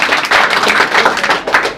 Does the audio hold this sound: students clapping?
yes